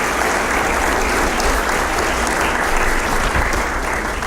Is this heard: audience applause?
yes